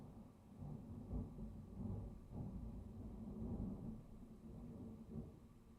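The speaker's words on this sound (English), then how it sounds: "You might hear some thunder in a minute here. Because I just saw, lightning strike." Low thunder rumbles steadily after a lightning strike, deep and rolling, with a few slightly stronger swells, heard faintly at a distance and without any speech.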